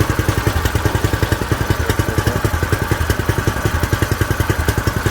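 A go-kart engine running cold on choke after starting, with a steady, fast putt-putt firing rhythm at idle, loud and close, with no talk over it.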